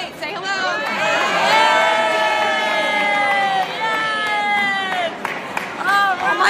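A large crowd welcomes veterans home from an Honor Flight trip to DC with loud, sustained cheering, shouts and whistles that swell and ebb, while nearby voices chatter close by.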